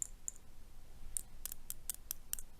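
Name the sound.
metal pen tip clicking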